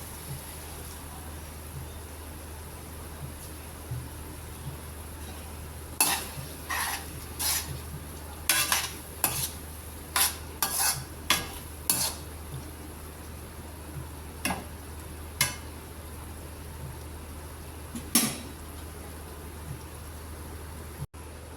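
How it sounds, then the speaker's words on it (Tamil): Drained noodles are stirred and tossed in a pan for ginger chicken noodles, giving a series of sharp utensil scrapes and clacks against the metal over a low background hiss, irregular and close. "இப்போ நூடுல்ஸ் வடித்த நூடுல்ஸ் இதில் போட்டுக்கலாங்க"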